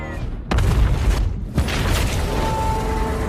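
A film explosion as the Gypsy robot blows up in Pacific Rim: a loud booming blast at about half a second, a second thump shortly after, then a sustained rumbling roar with a faint tone running underneath.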